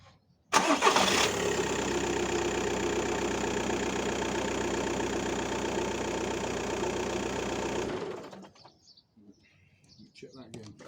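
A VW Golf 1.9 TDI PD130 diesel engine cranks and fires, then runs at a steady clattery idle for several seconds before being switched off, leaving quiet background with faint birdsong.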